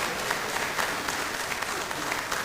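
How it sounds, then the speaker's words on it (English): Church parishioners at a Greek Festival kickoff give steady, dense applause, a soft wash of many hands clapping from a distance with no voices on top. "please give yourself a big round of applause"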